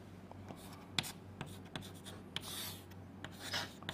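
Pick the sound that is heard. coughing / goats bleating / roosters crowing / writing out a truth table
writing out a truth table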